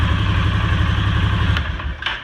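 A 2018 Polaris Sportsman 570 ATV with its stock exhaust idles steadily up close, a low even putter that keeps the same pace throughout and then wavers slightly near the end.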